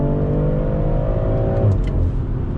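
A 2020 BMW M340i sport sedan engine revving hard under acceleration, its rising drone dropping at a clean gearshift, loud and steady, heard from inside the car with no talking.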